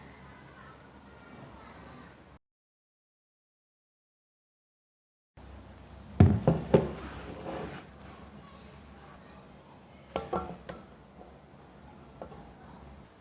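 About 500 grams of ice cubes are tipped into a bowl for homemade ice cream, making two short bursts of close clattering against a quiet room background.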